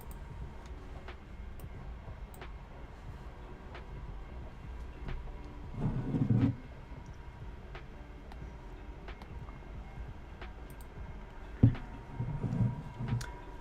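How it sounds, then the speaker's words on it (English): A train passes outside, a faint, distant low rumble that goes on steadily for the whole stretch, with a couple of brief louder clunks. "There's a train going by."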